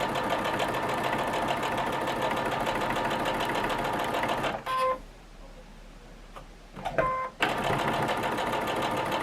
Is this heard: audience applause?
no